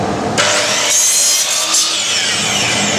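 A miter cut is sawn through wood for a handmade pen case, giving a few close, rasping back-and-forth saw strokes that carry on steadily to the end.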